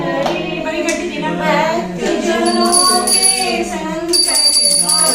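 A big bell rings out, bright and sustained, during a Hindu aarti puja for Dussehra at home, mixed in with voices chanting and singing the aarti.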